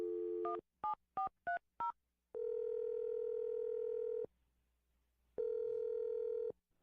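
A telephone keypad beeps out a number in five quick tones, then a steady ringback tone sounds twice with a pause between, clear and close with no talking.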